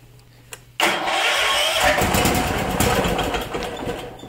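A 1973 Ingersoll garden tractor, choked and throttled after rolling down a ravine, cranks and catches abruptly, then roars into a steady, loud, close running engine note that holds to the end.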